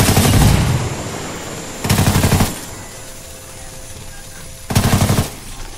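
Automatic gunfire in the tactical shooter Ghost Recon Wildlands: three loud, close bursts of rapid shots separated by quieter pauses with faint game ambience.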